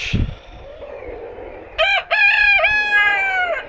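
Tiger breed chickens on a poultry farm give a short cluck, then a rooster crows loudly and close by in one long, broken call.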